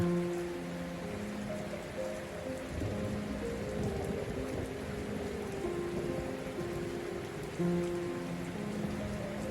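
Heavy rain pours steadily, a dense hiss and patter on surfaces, with faint low rumbles underneath and no talking.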